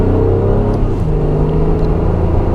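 A 2022 Acura MDX Type S SUV accelerates hard, its loud engine drone rising and dipping through quick gear changes, heard from inside the cabin with no talking.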